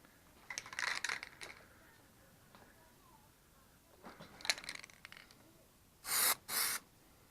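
Aerosol Plasti Dip sprayed onto a Toyota 4Runner as a first coat, heard as a few short hissing spray bursts separated by quiet gaps, ending with two loud, close blasts.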